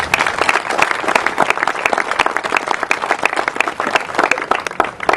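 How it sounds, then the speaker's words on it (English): A crowd claps steadily at an outdoor mural and kiosk dedication in Canastota, dense continuous applause with many overlapping hand claps throughout, no voices over it. "I would like to give them a round of applause."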